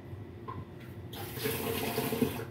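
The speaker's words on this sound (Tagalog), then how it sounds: "Lalagyan ko ng tubig pang sabaw." Water is poured into a cooking pot for soup broth, starting after about a second as a close, steady rushing splash that continues to the end.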